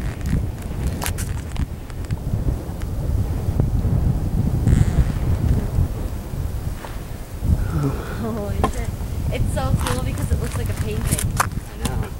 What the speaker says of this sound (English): The wind hits you, you're just like,